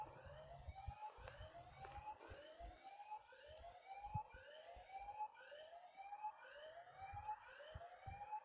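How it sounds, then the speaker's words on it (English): An electronic motion detector alarm set between two monuments in a cemetery wails with a repeating rising siren-like whoop, about a dozen sweeps in steady rhythm, moderately loud over faint outdoor background. "if anything walks between the white monument and the gray monument to the right, you will get an alarm that goes off"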